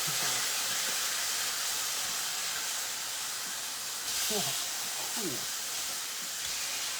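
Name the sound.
pork chops browning in a pan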